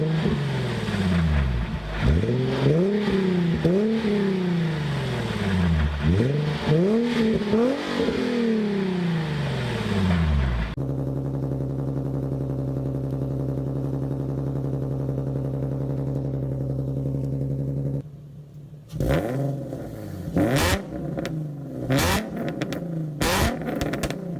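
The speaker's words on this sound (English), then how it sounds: "the first one that you're going to hear is the exhaust only, and then the second one is going to be the exact same exhaust, but with Borla headers" A Nissan 350Z revs repeatedly, first through its aftermarket exhaust alone and then with Borla headers added, rising and falling engine sweeps loud and close, with a steady idle drone between passes.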